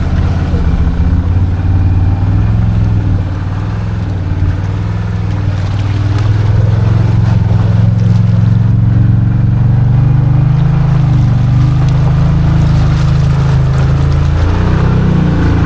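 Maverick Sport XMR side-by-side on 35-inch Aztexs tires driving over culverts and wood in a muddy track, its engine droning loudly and steadily throughout, rising in pitch toward the end.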